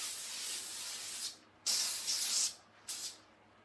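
Hairspray misted onto pinned-down retro waves, a soft hissing spray in several bursts: one long steady blast, then a couple of shorter sprays after brief pauses, close and clear.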